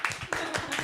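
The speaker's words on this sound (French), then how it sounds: "je pense qu'on peut t'applaudir" Light applause from a small studio group during a French aperitif-style talk show, several quick claps in a short scattered burst, fairly soft and close.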